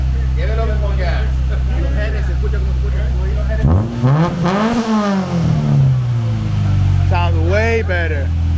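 A Honda Civic EG with a full Spoon exhaust idles low, then revs hard in a rising, raspy surge that falls back. A second shorter rev follows, with people talking and cheering nearby.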